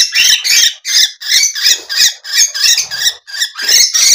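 A pet bird squawks harshly and repeatedly at close range while being held and biting, loud grating calls coming in quick bursts with brief gaps, no talking.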